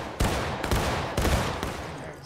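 Musket volleys in War of Rights, the Civil War shooter, crack out as four loud, ragged bursts of overlapping shots, each booming and fading before the next ragged round of fire.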